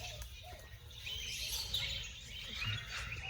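Birds chirp and call at an island resort on Samal, a steady chorus of tweets and trills carrying over a low background rumble, with no one speaking.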